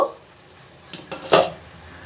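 A lid lifted off a pan of egg keema curry, giving a couple of faint metallic clinks followed by one brief, louder clatter, close by in a quiet kitchen.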